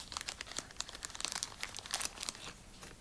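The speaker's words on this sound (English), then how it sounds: "I will use my scissors to cut the purple bag" A purple plastic toy bag crackling and crinkling as scissors cut it open, close and fairly loud, with dense bursts of sharp rustles throughout and no voices.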